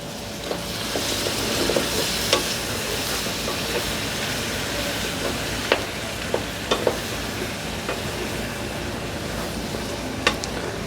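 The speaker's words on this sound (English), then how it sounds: "And mix these in too." Chopped whole tomatoes stirred into a sizzling stew sauce with toasted spices, a dense continuous fry hiss with occasional soft clicks and scrapes of a spoon against the pot, close and steady throughout.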